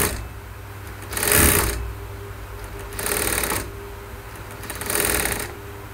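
A sewing machine stitches a front-pleated kurti, running in three short, close bursts of rapid mechanical whirring separated by brief pauses.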